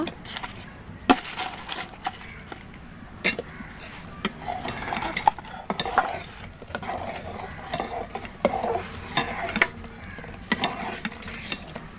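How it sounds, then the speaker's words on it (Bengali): Milk and jaggery boiling in a pot for dudh chitoi pitha, stirred with a utensil that scrapes and clinks against the metal in irregular strokes, close by, with no talk. "এবার দুধ দিয়ে গুড় দিয়ে ভালো করে আমি ফুটিয়ে নেব।"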